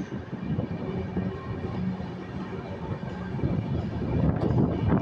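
East Coast Express 18045 with LHB coaches rolls along in a steady, continuous rumble heard from inside, with wind buffeting and a slight swell toward the end.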